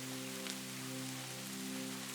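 Rain falling in the woods makes a steady, dense hiss that stays even throughout, with a constant low hum beneath it.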